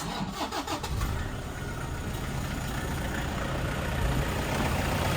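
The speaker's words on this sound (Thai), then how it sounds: "เดี๋ยวผมสตาร์ทเครื่องให้ลูกค้าได้ฟัง" A used Toyota Hilux Vigo Smart Cab 2.5 pickup's engine cranks with a quick rhythmic churn, then fires up into a loud, steady diesel-like idle nearby.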